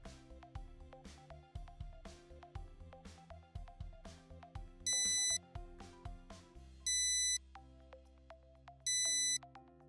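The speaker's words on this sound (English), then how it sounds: "your device will alert you audibly and visually when the temperature of your environment exceeds the high alarm" Three loud electronic beep bursts repeat at steady intervals over a plucky background melody, each burst a rapid cluster of sharp tones.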